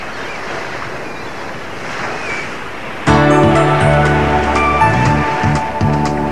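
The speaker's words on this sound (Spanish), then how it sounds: "Il mare si infrange sulla chiglia così." Sea waves wash and break against a ship's keel in a steady, loud, windy surge, and music comes in over the water about halfway through.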